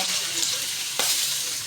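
Chicken fries in hot oil for Filipino adobo, giving a loud, steady, close sizzle with one brief sharper crackle partway through.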